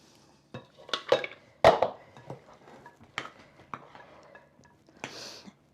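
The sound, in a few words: spoon folding white Christmas cake batter in bowl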